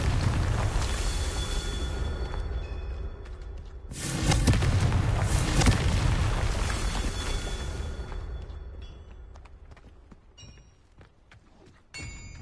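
A Confringo explosive spell in Hogwarts Legacy sets off a loud, booming burst that rolls into a long rumbling decay and fades over several seconds, with small crackles and chimes near the end.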